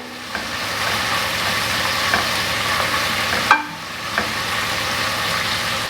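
Onions sautéing in oil for a pressure-cooker egg biryani give a steady, moderately loud sizzle, broken by a few sharp clinks of a spoon stirring the pan, the clearest near the middle.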